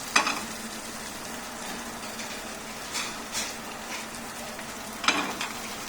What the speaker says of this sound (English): Make sure the pan is super hot, and then you put cold oil so it becomes non-stick. Prawn cook very fast